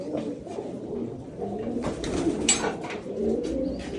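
Domestic pigeons coo repeatedly close by at a pigeon farm near chicks, low rolling calls continuing over a steady background.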